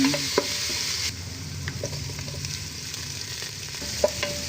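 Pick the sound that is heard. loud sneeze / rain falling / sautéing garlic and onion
sautéing garlic and onion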